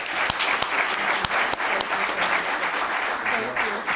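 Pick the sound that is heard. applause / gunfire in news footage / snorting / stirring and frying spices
applause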